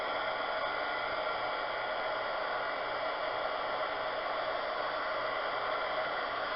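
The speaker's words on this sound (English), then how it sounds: "and then I'm going to use my heat gun" Heat gun blowing a steady, even rush of hot air across alcohol ink paint for home décor, a continuous hiss with no pauses and no talking.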